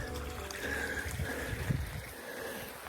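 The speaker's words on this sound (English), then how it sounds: "I seem to have acquired a babbling brook" A babbling brook of dark, tannin-stained water beside a hill trail in Scotland, a steady low trickling and burbling close by that runs without pause, with a slightly louder splashy swell partway through.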